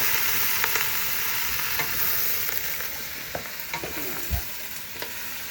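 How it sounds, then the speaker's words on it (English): Bok choy greens stirred in a pot for turkey meatball and mushroom soup, with a steady close sizzle and scattered scraping strokes of a utensil throughout. "We're going to stir this for a few minutes until it gets cooked up"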